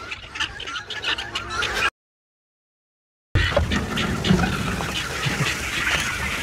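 Harsh, repeated squawking guinea fowl calls over a rough, noisy farmyard background, interrupted once by a brief gap of silence.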